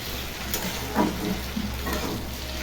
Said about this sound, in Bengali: বেশি ভাজবো না, কেননা শক্ত হয়ে যাবে বেশি ভাজলে।